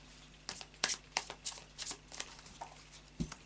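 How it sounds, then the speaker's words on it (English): A deck of Oracle of Dreams oracle cards is shuffled close up, a run of crisp riffling flicks and soft slaps in quick, uneven bursts. "let's just do a final shuffle of the Oracle of Dreams"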